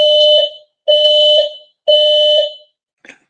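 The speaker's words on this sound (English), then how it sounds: "we can't disable the fire alarm" A fire alarm sounds in three loud, even electronic blasts of about half a second each, with short gaps between them and a brief faint fourth chirp at the end, with no voices.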